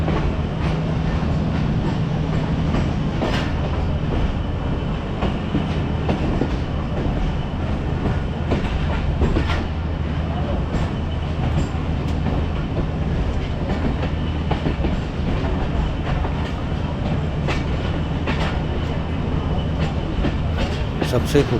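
Tezgam Express pulling out of Wazirabad Junction toward Lahore, a loud continuous rumble of wheels on track with dense clicking and clattering over the junction's rail joints and switches.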